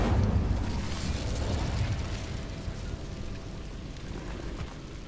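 The Incendio fire spell is cast in Hogwarts Legacy, releasing a loud burst of crackling, roaring flame with a low rumble. The blast is strongest at the start, then fades into a rushing fiery hiss.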